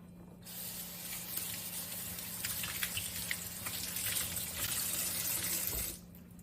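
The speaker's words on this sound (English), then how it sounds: "It rinses right out, ready to use again." A reusable cleaning cloth is rinsed under a running kitchen tap, a steady close rush of water with splashing that starts and stops abruptly, over a faint low hum.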